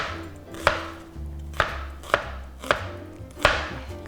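Knife chopping onion into roughly half-centimetre slices on a cutting board for a spicy pork and webfoot octopus stir-fry, five sharp separate chops spaced about a second apart, close and clear with no talk.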